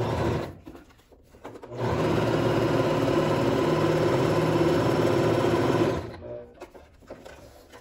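Domestic sewing machine stitching a seam in synthetic fabric near a zipper, running in a steady loud whir for about four seconds after brief stop-start bursts, then slowing to a halt.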